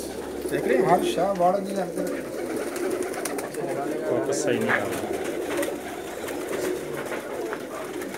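Pigeons cooing in a loft in Pakistan, soft throaty coos repeating throughout amid rustling, with someone talking over them.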